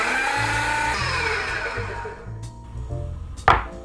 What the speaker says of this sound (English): And we're gonna blend this until smooth.